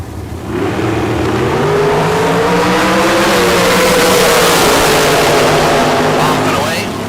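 A drag race car launches and accelerates hard at a bracket race, its engine note rising loud and steady for several seconds before easing off, with an announcer talking over it.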